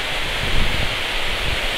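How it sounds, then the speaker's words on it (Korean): A mountain valley stream in Piagol Valley rushes loudly and steadily nearby, giving a dense, constant roar of flowing water with no voices. "물소리가 정말 우렁찹니다."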